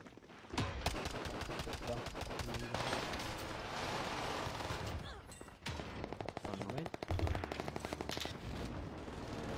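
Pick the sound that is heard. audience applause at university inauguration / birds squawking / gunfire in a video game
gunfire in a video game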